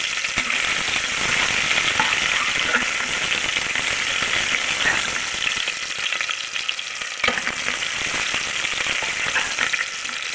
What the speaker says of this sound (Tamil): சாம்பார் வைக்கிறதுக்கு எண்ணெய் வச்சுருக்குறேன் கடுகு சேர்க்க வேண்டும்